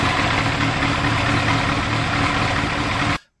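On a cold day, an engine idles with a steady, even rumble held close and loud, then cuts off abruptly just before the end.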